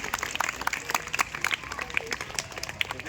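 Audience applause at a school science and tinkering lab prize-distribution event: a steady, dense patter of many hands clapping close by, sustained for a few seconds with a faint voice mixed in.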